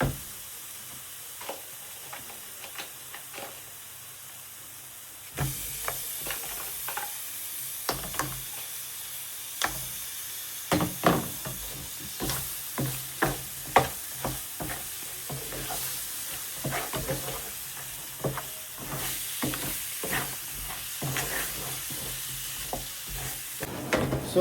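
Crab pieces are stirred in a spiced pan for a Telangana-style crab curry: a hushed start gives way to steady loud frying sizzle, punctuated by frequent scraping stirs of the spoon throughout.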